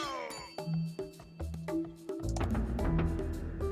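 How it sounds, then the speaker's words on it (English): In the Age of Empires 2 video game, the town bell rings out as a series of clear, bright metallic dings with ringing overtones, struck repeatedly before a denser clamour of game sounds takes over. "then click town bell."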